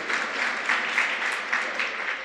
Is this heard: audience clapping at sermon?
yes